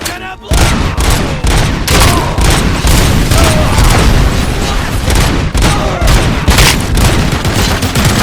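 Loud, sustained explosions and heavy gunfire roar through a RoboCop: Rogue City game battle, a dense wall of booms and crackling blasts with shouted voices buried in the din.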